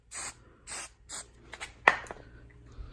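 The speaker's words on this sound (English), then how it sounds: "we're gonna spray the handlebar end" Aerosol can sprayed into a motorcycle handlebar end while fitting grips on a 2015 GSX-R: three short hissing bursts in even rhythm, then softer rubbing and a sharp click, close and alone without talk.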